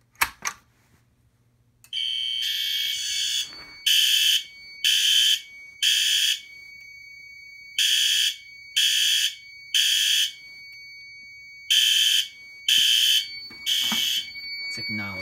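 Fire alarm horns on a Silent Knight SK-2 panel with synchronized strobes, set off by a Simplex 4250-120 pull station: loud, close, steady pulsing tones in repeated groups of three, a temporal pattern, with no talking.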